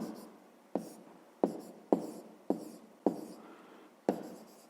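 A pen or marker writing a math solution by hand for a fifth-grade exercise, heard as seven sharp close taps of strokes at an uneven pace, each followed by a short scratchy trail, with no talking.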